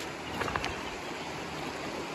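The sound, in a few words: flowing stream water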